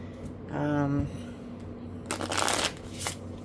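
Tarot cards shuffled by hand, a quick riffling burst followed by a second brisk flurry of papery flicks, close up, with a low hum and a voice briefly heard.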